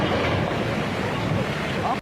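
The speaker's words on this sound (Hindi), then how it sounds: "पुल के गिरने के बाद लहरें और तेजी से आगे बढ़ी" Floodwater surging downstream in Almora, Uttarakhand, after a bridge collapsed during heavy rain, a steady, loud broadband roar of rushing water and wind buffeting the microphone, continuous for the whole stretch.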